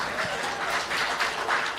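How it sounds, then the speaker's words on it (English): Audience applause breaks out at a stand-up comedy show, a short burst of moderately loud clapping that fills the room for under two seconds. "Why are you clapping?"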